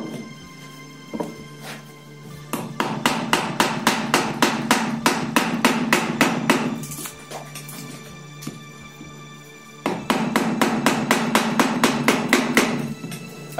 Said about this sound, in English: with this flat chisel, I will just take these parts out and do the same on the other side